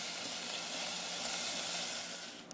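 Bacon sizzling and crackling in its rendered fat in a pan for mac and cheese, a steady bright hiss that fades slightly at the end, with no talking.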